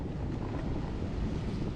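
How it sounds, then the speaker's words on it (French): Steady wind buffeting outdoors by the water while fishing, a constant loud rushing roar with heavy low rumble across the whole stretch, no voices. "Il y a du vent."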